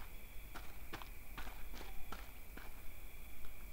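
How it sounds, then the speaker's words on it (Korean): Footsteps creeping behind the player in the horror game Puppet House, about eight evenly spaced, fairly faint thuds against a steady high tone and low rumble. "뒤에서 발소리 같은 게 났는데"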